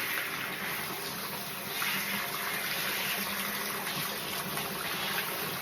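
Steady running water rinses a Miniature Bull Terrier during its bath, a continuous broadband splash and pour held at even, close level throughout with no talk.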